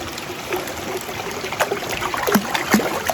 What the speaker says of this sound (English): I'm going to stick these feet into that water right now.